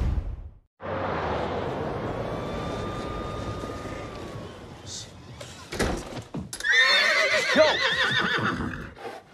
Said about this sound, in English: There's a horse